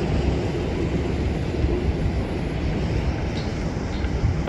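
A United jet airliner takes off at a Houston airport, producing a loud, dense, continuous engine roar that holds steady throughout, with no voices.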